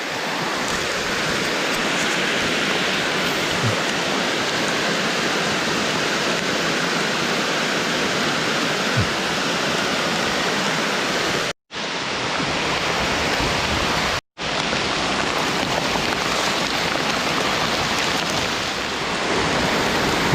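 Steady, heavy rain pouring down in a dense continuous hiss, briefly cutting out twice before resuming.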